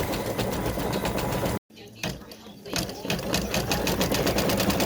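An embroidery machine satin stitches the inside of a heart design on a gift tag, humming loud and close with a rapid needle rattle, stopping briefly after a second and a half before resuming.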